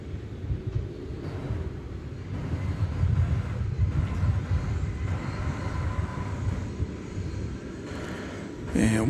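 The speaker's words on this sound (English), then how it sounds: "And what you had there arriving was Flight 2213 from Los Cabos in Mexico. So that's a 747-8." A Boeing 747-8 airliner arriving at DFW Airport on a flight from Los Cabos, Mexico, gives a continuous low engine rumble and roar that swells slightly over several seconds before a brief sharper noise at the end.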